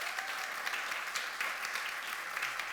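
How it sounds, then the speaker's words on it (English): An audience claps steadily for a few seconds for a conference panel, a dense patter of applause without voices. "Big round of applause for our panelists here."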